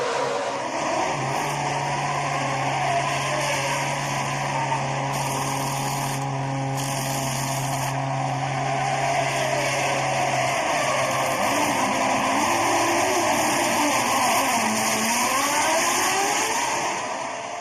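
Formula 1 race cars at the 2006 Chinese Grand Prix, a continuous loud engine drone with shifting whining tones from several cars passing and revving, broadcast crowd noise beneath, no speech.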